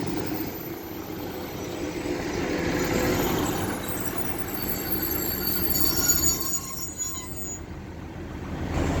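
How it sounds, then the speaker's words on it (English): Northern Class 150 diesel train at Castleton station, a moderate engine rumble and rolling wheel noise with some squeal that swells and fades, heard from the platform without talk. "So now getting ready to depart is 150 128 with the 1326 Northern service to Rochdale."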